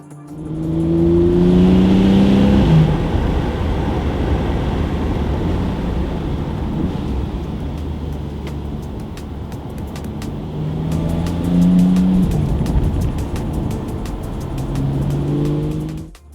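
A 2014–2015 Porsche 911 Targa 4S (991), all-wheel drive, accelerates hard on a public road, its engine note climbing through rising sweeps and gear changes, loud and close, with no voices.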